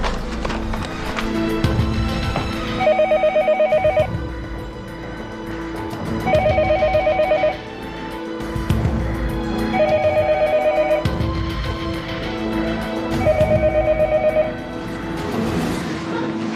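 A hospital landline telephone rings in four evenly spaced bursts, each about a second long, over a steady murmur of background noise.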